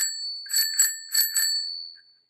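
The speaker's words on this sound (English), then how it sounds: "Next we have a bell." A clamp-on handlebar bell on a trail bike rings in four quick bright dings, close and clear, with the metallic tone ringing out and fading to silence.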